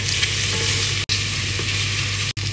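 Mushrooms and seasoning cubes in a bechamel base sizzling steadily in a pan while being stirred, a continuous close hiss broken by two brief dropouts, no talk.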